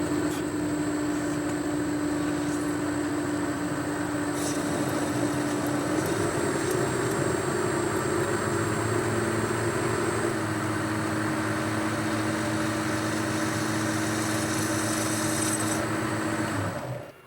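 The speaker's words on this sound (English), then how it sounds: "I've put a piece of aluminium in the chuck and just face this off" Boxford lathe facing a piece of aluminium held in the chuck, giving a steady mechanical hum with a sustained tonal whine that shifts pitch midway and runs unbroken for the whole stretch.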